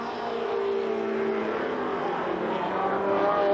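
Several race cars battle side by side for the lead at Columbus Motor Speedway in 1993, their engines droning steadily and loudly together at mid distance without a break.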